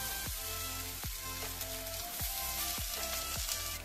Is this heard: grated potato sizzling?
yes